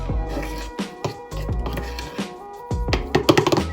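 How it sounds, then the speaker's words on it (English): Spoon stirring icing sugar and milk together in a bowl, with repeated close scraping and tapping strokes in an irregular rhythm, fairly loud and alone. "And I'm going to mix it up with a spoon."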